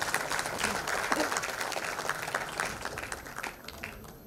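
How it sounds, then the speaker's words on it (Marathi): Audience applause welcoming a state minister at a Mumbai Veer Savarkar centenary celebration, a thick, continuous wash of many clapping hands that holds steady for a few seconds, then thins slightly toward the end. "जोरदार टाळ्या."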